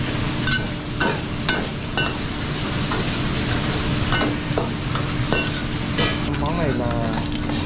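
Fried rice frying and being stirred in a restaurant kitchen, a steady loud sizzle with sharp clanks of a spatula against the pan at irregular intervals, alongside faint kitchen background and occasional voices.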